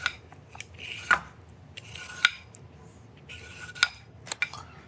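Vegetables are peeled in quick, close rasping scrapes that come in short bursts with pauses between, with light clinks of utensils.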